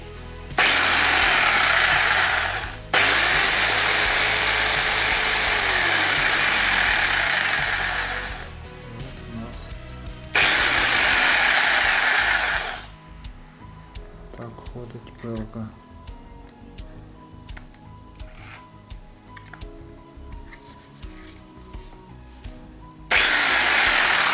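A Procraft ST1150 electric jigsaw whines loudly in several bursts with pauses in between, and quieter handling noises and speech fill the gaps.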